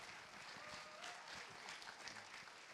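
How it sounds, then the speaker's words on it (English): Faint, distant applause from a conference audience at a 2012 graphic design event, a soft steady wash of clapping heard alone for a few seconds. "Big round of applause for Jake, guys."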